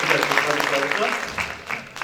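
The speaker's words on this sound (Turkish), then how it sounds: "Alkışlarınız koromuza gelsin efendim." Audience applause for a Turkish folk choir at a concert, a dense burst of clapping that fades toward the end, with a voice talking over it.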